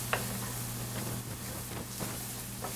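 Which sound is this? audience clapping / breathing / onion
onion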